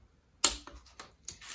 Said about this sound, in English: I had to switch to my smaller torque wrench because the bigger one doesn't go below 50